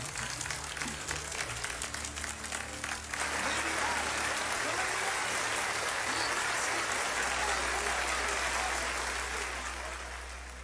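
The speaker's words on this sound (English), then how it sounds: "Why do they applaud that?" In the game Final Fantasy XII, a large crowd applauds a speech, dense steady clapping that rises sharply after a few seconds of talk and then fades gradually, with a low rumble underneath.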